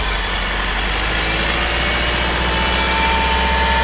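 Car engine running in a workshop after a top overhaul, a loud, steady idle with a slight rise in revs, heard close and alone without speech.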